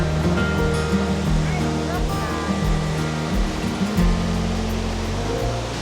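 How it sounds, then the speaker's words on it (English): A waterfall in spate roars steadily, a dense, continuous rush of water with no breaks, loud and close. "the waterfall looks pretty much in spate"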